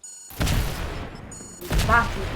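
Gunfire from a weapon in a video game, heard as two bursts of rapid shots with sharp onsets, each followed by a fading rumble, near and fairly loud.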